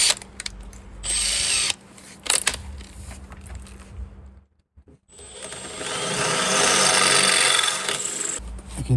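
A power drill whirs in bursts, cutting a 6 mm hole into wood for mounting an electric slide-out step, with a grinding, rasping tone, pausing briefly before a longer steady run.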